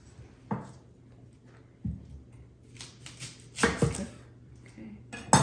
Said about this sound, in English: let me cut the onion too.